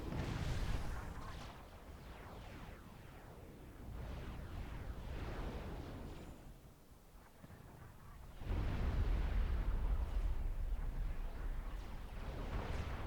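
Long-range artillery fire in the real-time strategy game Supreme Commander 2 during a 4v4 match: a steady barrage of booming blasts and rumbling impacts, swelling louder in the second half, with no speech.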